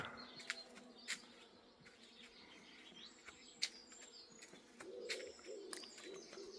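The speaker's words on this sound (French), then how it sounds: "quel bourdonnement! On a l'impression d'être dans une ruche, je vous assure" Soft, steady buzzing of many bees around a catalpa tree in the morning, with occasional bird chirps and a dove cooing faintly in the background.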